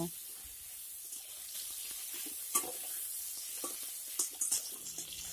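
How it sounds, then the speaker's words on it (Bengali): Eggplant pieces fry in oil with salt and turmeric for a mixed vegetable dish: a low, steady sizzle with scattered scraping and clinks from stirring, a few sharper knocks near the end, faint and close. "এখন বেগুনটিকে খুব ভালো করে নেড়ে চেড়ে ফ্রাই করে নেব"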